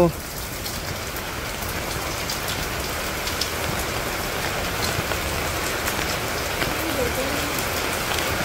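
A drop of water hits hot oil, setting off a loud, dense, continuous crackling sizzle close by that holds steady throughout.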